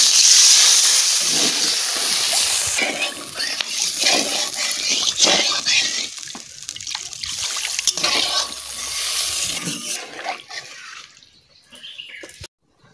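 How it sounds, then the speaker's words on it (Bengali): Water poured onto fried spices in a hot pan bursts into a loud, close hiss of steam and bubbling that slowly weakens and fades toward silence at the end. "মশলাটা ভালো করে ভাজা হয়ে গেছে, এবার জল দিয়ে দিচ্ছি।"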